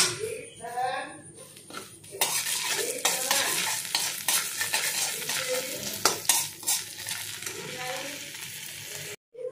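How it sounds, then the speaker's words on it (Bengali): Spices with salt and turmeric, plus cumin and coriander powder, stirred in a pan: a steady sizzle with repeated scraping strokes of a utensil against the metal, close and fairly loud, continuing throughout with brief clinks near the end. "এরপর আমি এগুলোকে কিন্তু খুব ভালো করে নাড়াচাড়া করে নেব।"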